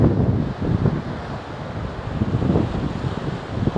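Outdoor wind buffets the microphone in loud, low, rumbling gusts that rise and fall continuously, with no speech heard.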